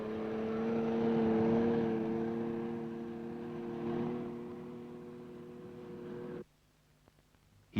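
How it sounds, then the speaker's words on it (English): A large Nodwell tracked vehicle drives across Antarctic snow near Scott Base, carrying an injured man: a steady, loud engine drone with tonal hum holding for about six seconds, then cutting off abruptly to near silence. "The large Nodwell vehicle transports the injured man back to Scot Base."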